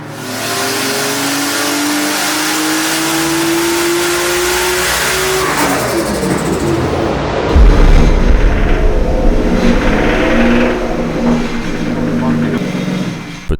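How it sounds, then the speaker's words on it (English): A tuned car's engine revs up in a rising sweep, then roars and drones at close range with rough, uneven tone, while voices speak over it. "we started hearing noises. Engine noises."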